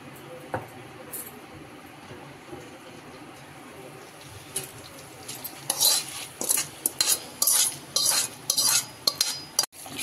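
A spoon stirs curd rice with coriander and salt in a bowl, quiet at first, then a run of close, repeated scraping and clinking strokes against the bowl in the second half.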